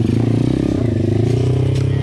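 Close, loud throbbing of a new Pitgang 140XD pit bike engine riding slowly in first gear with almost no throttle, a steady pulsing putter while a rider talks over it.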